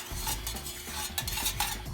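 Melted candle wax in a tin is stirred carefully, with soft, close scraping strokes and faint clinks of the stirrer against the metal, steady throughout.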